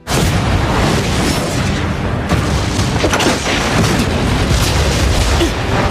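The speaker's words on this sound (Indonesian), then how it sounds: "Bersamaan dengan rentetan ledakan yang dilancarkan" A barrage of magic explosions in the Solo Leveling anime battle between Sung Jinwoo and Kargalgan, heavy booming blasts rolling one into another, loud and continuous with no pause.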